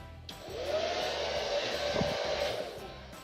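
A hair dryer blows with a steady whooshing hum, fairly quiet, switched on near the start and running throughout.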